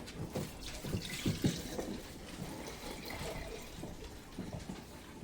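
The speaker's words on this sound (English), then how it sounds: "Pour it in this jar." Fire cider liquid being poured into a jar, a soft, uneven trickle and splash with a few louder glugs early on, close by and without talk.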